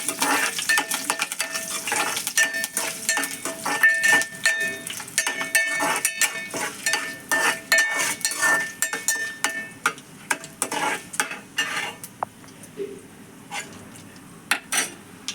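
Dried red chilies and curry leaves are stirred in a pan, with a metal spoon scraping and clinking against the pan in quick repeated strokes over a light sizzle, loud and close before easing off near the end.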